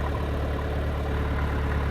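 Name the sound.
tractor engine idling while feeding cattle hay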